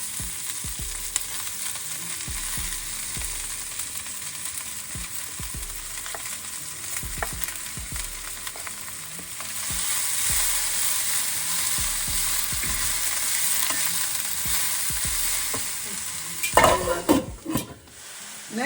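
Green peppers fry in a pan for a Nigerian mackerel fish sauce with cabbage, giving a steady close sizzle broken by repeated scraping stirs, which grow louder and clatter near the end.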